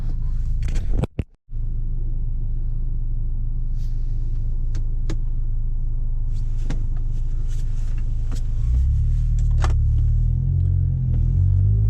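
A Honda S2000 fitted with a K-series engine drives along, its steady low engine drone and road rumble continuous throughout, with a brief drop near the start and a slight rise in pitch late as it picks up.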